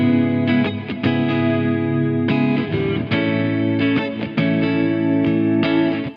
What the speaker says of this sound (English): I use the modulated mode for the strummed chords